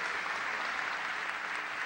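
Sustained applause from an audience in a congressional chamber honoring 1975 Copa América champions, a dense, even wash of many hands clapping throughout, with no voices over it.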